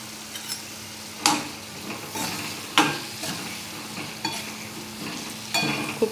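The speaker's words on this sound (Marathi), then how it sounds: "आता हे दोडके सगळे मी टाकून घेते, चांगलं परतून घेते त्यांना पण।" Ridge gourd pieces sautéed in a pan for a spicy dry vegetable dish, a low sizzle under repeated sharp scrapes and knocks of a spoon stirring against the pan, no talking.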